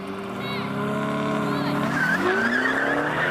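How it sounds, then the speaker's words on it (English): An Aston Martin accelerates hard in a drag race, its engine note climbing steadily in pitch, dipping briefly as it shifts gear, then rising again, loud and close, with voices talking over it. "It's the change to second gear, this thing just takes off."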